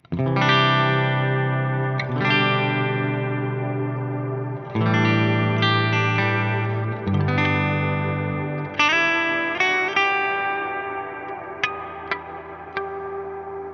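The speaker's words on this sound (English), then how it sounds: "A little reverb on." Electric guitar chords through a hall reverb pedal in stereo ring out one after another, each swelling into a long, spacious reverb tail that washes over the next, with occasional bright single notes.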